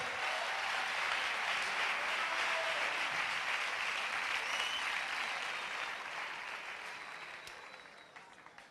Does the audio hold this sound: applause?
yes